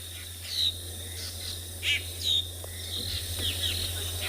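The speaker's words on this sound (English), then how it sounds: "There are lots of birds calling. Drongos. Mostly drongos." Drongos calling at sunrise on a safari, a few sharp whistled chirps scattered over a constant background hum of crickets, moderately near.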